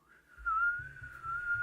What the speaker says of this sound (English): but I did whistle